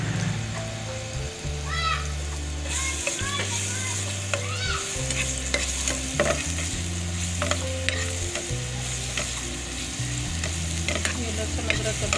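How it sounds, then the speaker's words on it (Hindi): Garlic and ginger sizzle in hot oil as a tempering for masoor dal, a steady close crackle with a spoon stirring and scraping through it, and no talking. "लहसुन अदरक का तड़का लगा रही हूँ।"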